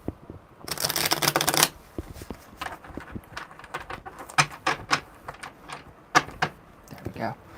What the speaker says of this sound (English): Sorry, one more shuffle.